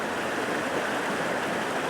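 Water pours down a small Scottish burn's waterfalls: a steady, loud, broadband rushing and splashing from close by that stays even throughout, with no voices.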